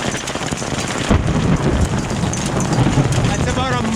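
Dime-size hail pelts down in a thunderstorm around an overlanding Jeep, a dense, loud patter of impacts with rumbling wind noise and a voice talking over it.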